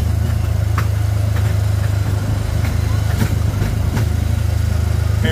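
Disneyland Autopia ride car in Tomorrowland, a small gasoline engine humming steadily and loudly close by, a constant droning putter with faint knocks and bumps throughout.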